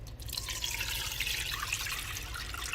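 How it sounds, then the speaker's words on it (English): Oat milk poured into a nut milk bag for straining, a steady close liquid trickle and drip running without pause and no talking. "now I'm going to pour it into my nut milk bag"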